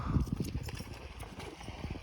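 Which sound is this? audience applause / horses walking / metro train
horses walking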